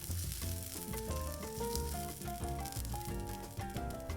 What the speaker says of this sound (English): I'm gonna let these fry until the shrimp are mostly cooked through.